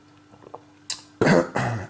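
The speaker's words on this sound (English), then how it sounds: "Just can't seem to shake this cough at the moment." A person coughing twice in quick succession, close and fairly loud, after a faint throat sound.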